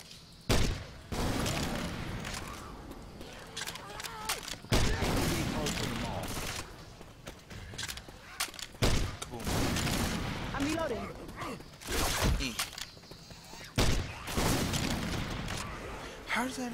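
Grenade launcher fire in the Left 4 Dead 2 zombie shooter, several loud booming blasts spaced a few seconds apart amid chaotic gunfire and game noise, with a player talking throughout.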